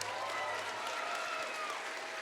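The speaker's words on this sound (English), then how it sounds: "let's give another round of applause for Cole and his amazing leadership" A convention audience applauds its con chair, a steady, even roar of many hands clapping at moderate loudness throughout, with crowd voices mixed faintly into the wash.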